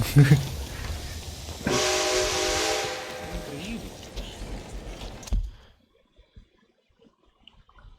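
A train at a station in the video game Red Dead Redemption 2 sounds a loud, sustained steam whistle over rumbling engine noise, then the scene cuts to near silence; a voice talks briefly at the start.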